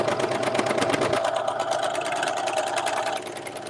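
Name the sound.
serger sewing machine gathering a skirt fabric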